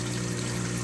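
Water flows steadily through a reef aquarium sump, a constant close rushing wash over a low, even pump hum.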